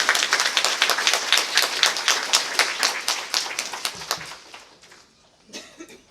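A crowd claps in rapid, dense bursts for several seconds, then the applause thins out and fades, with a few scattered claps near the end.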